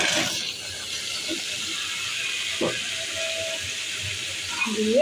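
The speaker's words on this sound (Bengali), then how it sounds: "এই তো পেঁয়াজ রসুনগুলো একটু ভাজা ভাজা হয়েছে, এখন মিষ্টি কুমড়া দিয়ে দেবে।" Pumpkin pieces with onion and garlic hiss and sizzle steadily in hot oil in a pan, a close, continuous frying sound with a few faint clicks.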